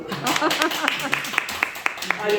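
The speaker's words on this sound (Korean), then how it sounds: "박수 한번 쳐주세요." A church congregation claps hands during a Sunday service, giving a short run of evenly spaced, crisp claps under and after spoken voices.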